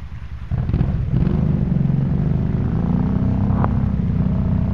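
After a quiet pause, an engine cranks and catches at about half a second, then settles into a loud, steady idle with a deep rumbling drone and a brief higher rev partway through.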